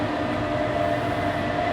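A first-class passenger train running from Chiang Mai to Bangkok, heard from a carriage right behind the engine as a steady, loud rumble and hum with no talk.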